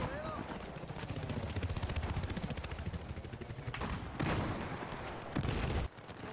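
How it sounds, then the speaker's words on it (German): In a Battlefield 4 multiplayer match, a claymore mine goes off as sharp, loud blasts that cut through constant rattling gunfire and battle din. "Das war meine Claymore."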